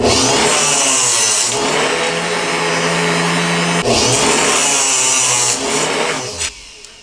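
A power saw cuts an arrow shaft to 28 inches for elk bow hunting, with a loud, steady motor whine that shifts in pitch as the blade bites, then spins down at the end.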